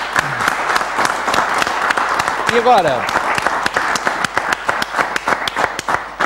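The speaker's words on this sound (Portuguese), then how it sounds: "eu quero aqui pedir uma salva de palmas para o nosso André Vieira" Audience applause at a university event for architecture students, dense close clapping that carries steadily throughout, with a voice speaking briefly over the start.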